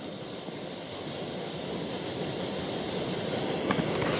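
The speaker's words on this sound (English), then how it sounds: "we are cooking up some hot water right here" A steady roaring hiss from a camp stove heating water outdoors in winter at Yellowstone runs unbroken and gradually grows slightly louder.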